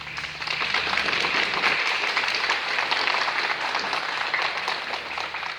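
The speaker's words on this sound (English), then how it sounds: "give your family and friends a round of applause for their support" Graduating GED students at an adult education ceremony clap for their family and friends, a broad, even wash of applause that holds steady at fairly loud level for the whole stretch.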